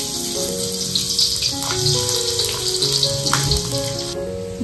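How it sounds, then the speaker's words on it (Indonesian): Garlic frying in a pan for beef and chicken meatball soup, a steady loud sizzle and crackle running continuously without talk. "Nah sekarang kita goreng bawang putihnya dulu ya."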